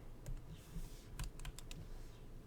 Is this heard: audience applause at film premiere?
no